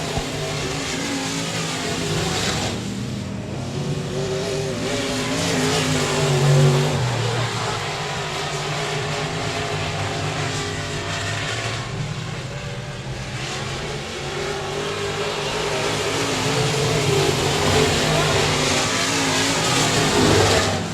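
Race cars roaring down the back straightaway at a speedway, a dense, continuous engine drone that swells and fades as the field passes, heard from a distance with a commentator talking over it.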